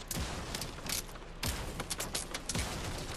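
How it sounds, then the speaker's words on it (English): Bursts of gunfire in Fortnite, rapid cracking shots coming in clusters over a steady busy game background, moderately loud. "That guy's just shooting"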